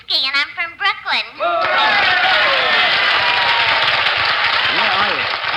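Studio audience breaking into sustained applause after a few short bursts of speech and laughter, a dense, even wash of clapping that carries on to the end.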